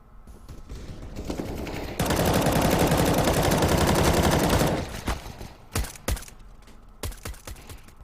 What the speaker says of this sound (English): he shoots at the target twice through the wall